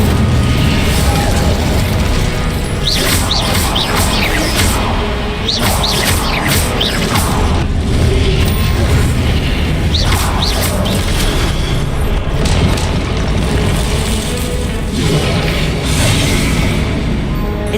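Incendio fire spell cast repeatedly in the Hogwarts Legacy video game: a steady run of loud, whooshing fiery bursts and booms with crackling flares, one after another over a dense, continuous background.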